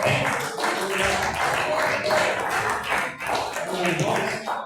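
A church congregation at a worship service applauds, dense overlapping claps rising and falling in waves while a voice speaks over them.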